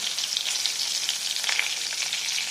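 Stuffed bitter gourds laid into hot spiced tempering oil sizzle steadily, a bright continuous frying hiss close up with no talking.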